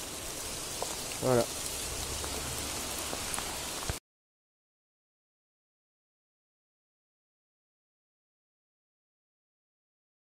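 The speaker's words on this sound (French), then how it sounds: "si le déluge continue, on va s'arrêter un peu, je pense" Heavy rain pours down in the woods as a steady broadband hiss of drops on leaves and ground, with a brief spoken word partway through.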